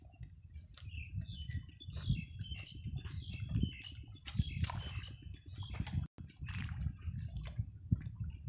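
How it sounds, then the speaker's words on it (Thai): Myna birds call with repeated chirps and whistles beside a rice paddy during rice planting, over a steady outdoor rumble and light handling noise. "ฟังเสียงนกเอี้ยงห้องพี่น้องเอ้ย"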